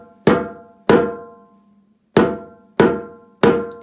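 Percussion playing a rhythm of two crotchets and a minim, loud bright metallic strikes in a repeating pattern: two evenly spaced hits, a longer gap, then again, each decaying quickly.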